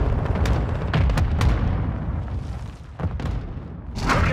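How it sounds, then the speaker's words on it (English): Precision airstrike explosions in Call of Duty Modern Warfare II, with several heavy booms in quick succession and rumbling blasts over ongoing battle noise. "Friendly precision airstrike inbound."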